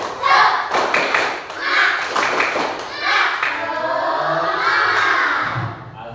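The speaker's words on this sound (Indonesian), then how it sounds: "Tepuk semangat." A fourth-grade class does a rhythmic spirit clap in the classroom: loud, close bursts of group clapping and thumping in a quick pattern, mixed with the children's chanting voices.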